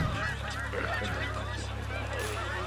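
A flock of geese honks during an early-season goose hunt in Michigan, with several overlapping calls close by over steady low background noise.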